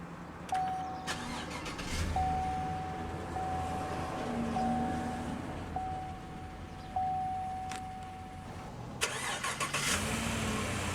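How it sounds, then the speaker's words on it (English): A 2016 Chevrolet Tahoe LT Z71 with push-button ignition cranks briefly and its engine catches, settling into a low, steady idle heard from inside the cabin, with a few soft chimes and clicks around it. "let's go ahead and start the engine"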